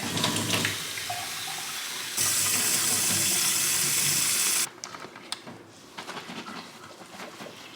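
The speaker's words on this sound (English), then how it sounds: "And then add 500 mils of warm water." Warm water runs from a tap into a bottle, a steady bright rush that cuts off abruptly, followed by light splashing and handling sounds.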